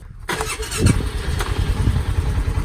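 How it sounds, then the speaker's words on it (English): A rented 670cc island buggy's engine starts up and runs with a rough, throaty motor drone and a brief squeal, loud and close with no talking. "We rented a buggy. 670 cc's. It'll get us around the island nicely."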